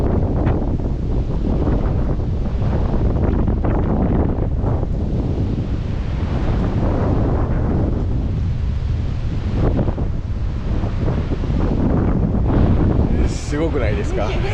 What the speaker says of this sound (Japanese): 風がめっちゃ強くって